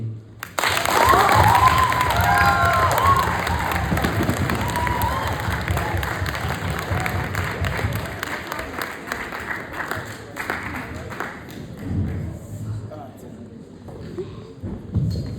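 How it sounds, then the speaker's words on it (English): Audience at a pan-African high school debating championship erupts in loud applause and cheering for the debate teams, with whoops over dense clapping that gradually thins and fades, and voices mixed in. "Ladies and gentlemen, let's give our teams a massive round of applause."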